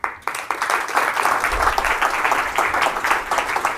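An audience at a live talk in Google/YouTube offices applauds after the speaker finishes, a loud, dense burst of clapping that starts abruptly and carries on steadily for several seconds.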